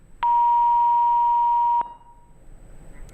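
One steady electronic beep, about one and a half seconds long, sounds clearly and alone as a caller's phone line drops during a live farming call-in TV programme, then a quiet hiss remains.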